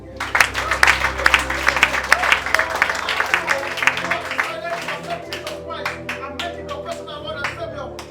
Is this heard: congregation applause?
yes